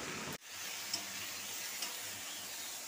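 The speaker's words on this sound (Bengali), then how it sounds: "এখন এঁচোড়টা দিয়ে ভালো করে নেড়েচেড়ে ভেজে নিচ্ছি।" Boiled young jackfruit fries in hot oil in a wok, a steady soft sizzle and hiss after a brief drop, with a couple of small pops.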